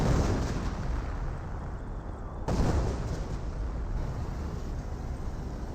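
Explosions from a Wurfrahmen rocket barrage in Company of Heroes fill the battlefield with a dense, continuous rumble, and a second wave of impacts follows partway through.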